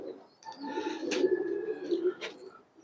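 Pigeons on a farm of over a hundred birds coo in a low, steady murmur, with a few brighter chirps cutting in near the start and end of the stretch.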